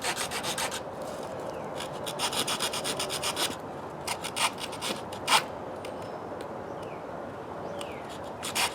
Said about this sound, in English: what I do as well is I chamfer the ends, just to keep it from cracking